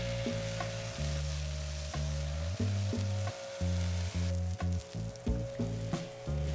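Smash burger patties topped with yellow American cheese searing on a grill, a close, continuous sizzle with a low hum and repeated faint clicks and shifts in level, no one talking.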